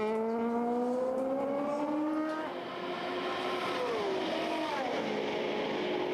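A race car at the 24 Hours of Le Mans 2017 approaches on an out-lap from the pits with minor front-right damage, its loud, continuous engine tone climbing through the gears and then falling as it passes, with no talk over it.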